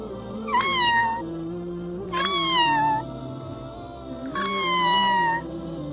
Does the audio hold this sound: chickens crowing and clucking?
no